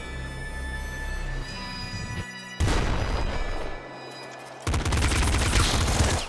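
Rapid bursts of pop gun fire from the top-down shooter Nuclear Throne, loud and dense, arriving in two volleys with a brief lull between them, no talking over the shots.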